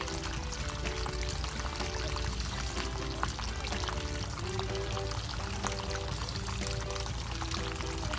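Sewage water steadily pouring and gushing as it overflows from an RV waste tank outdoors in Indiana, a continuous loud flow lasting throughout with no pauses.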